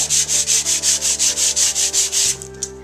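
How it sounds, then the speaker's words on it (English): Steady rhythmic back-and-forth sanding of painted wooden furniture to distress it, about a dozen even strokes close by, then the rubbing stops and a few small knocks follow. "As I continue to sand, I'll get more and more distressing, and more of the color from underneath will come through."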